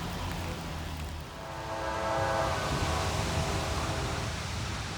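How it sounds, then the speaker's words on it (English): A westbound coal train pulled by multiple locomotives rumbles steadily nearby in the rain, with a brief horn-like tone rising over the continuous roar midway through. "Got us a westbound coming up through here."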